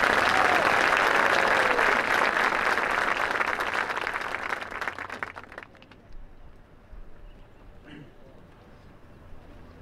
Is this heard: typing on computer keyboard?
no